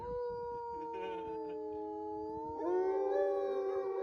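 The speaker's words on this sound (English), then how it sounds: "They howl mostly to communicate." Wolves howl in long, sustained, wavering tones, one voice rising and joined by a second, louder overlapping howl near the end, clear against a quiet background.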